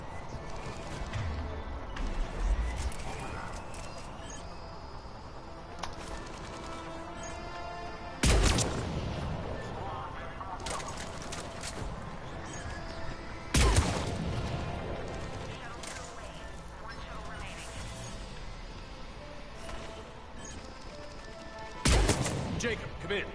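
Gunfire in a Mass Effect 3 battle, a few sharp loud shots standing out at intervals over continuous distant combat noise and game ambience, with voices talking intermittently.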